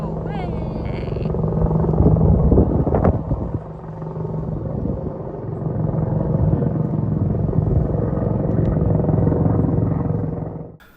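Two aircraft pass overhead above the Suffolk countryside, a loud sustained engine roar that swells and holds for several seconds, with a brief voice in the background.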